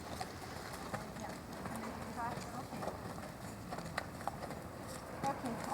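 Horse hooves clip-clop rhythmically in an arena during a riding lesson, soft and moderately near under a steady ambient hum, with people talking over them.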